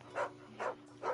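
A dog barks in the video game Final Fantasy XVI, with three short, evenly spaced woofs, fairly faint and quiet.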